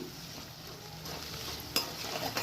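Salted vegetables for a quinoa dish are stirred in a pan, giving faint, quiet sizzling with soft scraping and a sharp utensil clink near the end, and no talking.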